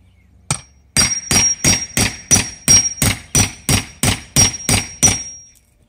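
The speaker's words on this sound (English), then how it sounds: "I can take a nail punch, which you might not have, and I can drive the nails in on the piece of siding above it." A hammer drives a nail punch to set nails into house siding, about a dozen sharp metallic strikes in a steady, fairly quick rhythm, loud and close with no talk.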